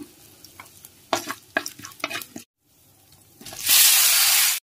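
Cumin, coriander and asafoetida hit hot oil in a pan with a sudden loud, steady sizzle near the end, after scattered clinks and stirring sounds.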